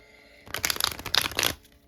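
A deck of tarot cards is shuffled by hand at close range, a brisk burst of riffling and flicking lasting about a second, with quiet before and after.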